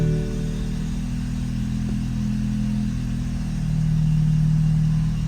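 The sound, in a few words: car engine running after startup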